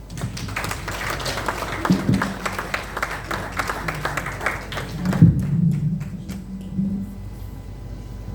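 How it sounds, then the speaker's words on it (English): Thinner applause from a conference audience at the Lagos International Maritime Week after an address by the French Consul General, with scattered individual claps, a few dull thumps near the microphone, and the clapping thinning out toward the end. "Another round of applause for her"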